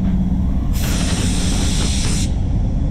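A spray gun lays down a second coat of clear, its steady loud hiss running about a second and a half and then cutting off, with no talking.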